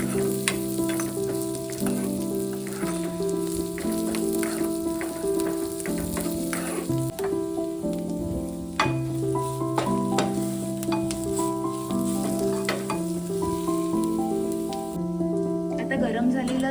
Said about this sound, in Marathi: मी दुधी भोपळा तोवर परतून घेतला तुपामध्ये